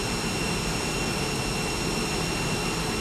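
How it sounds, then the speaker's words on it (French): Jet engines of an Air France Airbus approaching Marseille airport at 3 a.m., heard as a steady, loud, continuous roar with a faint high whine throughout. "l'Airbus d'Air France entame son approche sur l'aéroport de Marseille."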